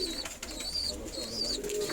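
An escaped pigeon of uncertain breed coos softly and close, in a few repeated rolling calls over a quiet background.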